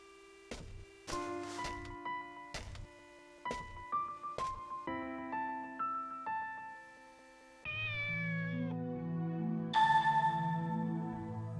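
A cat meowing in the video game Shenmue: a series of short, clear meows in an irregular rhythm, followed by longer drawn-out mews over a steady game background, close and loud, with no talking.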